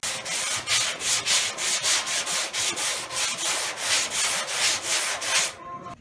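Polyester body filler on a car hood is hand sanded with a long block. Rhythmic back-and-forth rasping strokes, about two per second, sound close and loud and fairly even, then stop abruptly at the end.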